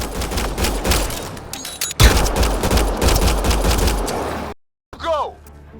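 Video game gunfire in Mass Effect Andromeda: loud, rapid bursts of automatic fire packed densely together, a sharp crack, then a brief silence before a final burst with a voice over it.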